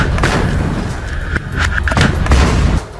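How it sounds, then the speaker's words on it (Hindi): A loud, deep explosion of an armoured vehicle in Khan Younis, Gaza, rumbles with heavy low-end booms and crackling bursts over about three seconds, sounding close and violent. "जिसके बाद जोरदार ब्लास्ट हुआ"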